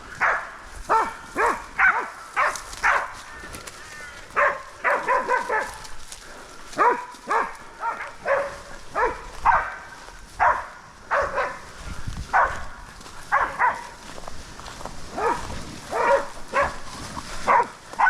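Hunting dogs bay and bark at a boar repeatedly in a steady, rhythmic series of loud, close yelps, with brief gaps between bursts and no talking.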